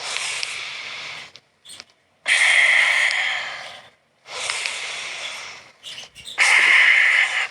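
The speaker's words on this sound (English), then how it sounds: "exhale." A person exhales forcefully through the nose during a lung breathing exercise, three long loud breaths near the microphone, each a rushing airy blast separated by short pauses.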